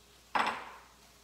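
Shrimp dropped into a hot pan for a homemade Chinese takeout-style dish, giving one sudden close clatter and splash that fades into a soft sizzle within about half a second.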